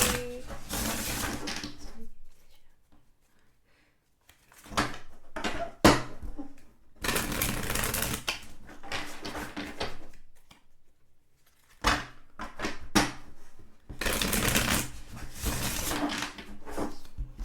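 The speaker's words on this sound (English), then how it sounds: "So let's shuffle the card for group number 3." Tarot cards being shuffled in bursts of dense, crisp riffling and flicking, several rounds separated by short quiet pauses, close and fairly soft.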